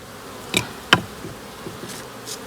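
Honeybees buzzing at their hives under a tree during a February spring inspection, a soft steady hum with two sharp knocks from handling the hive early on and faint passing bee tones.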